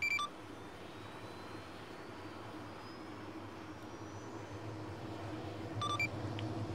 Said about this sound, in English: Be advised, intel from Shepherd 6 says there are more bombers inbound.